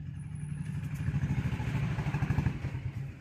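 Royal Enfield Bullet motorcycle passing close by on a street, its low, steady thumping engine pulse rising and falling over a couple of seconds with a clattery mechanical edge.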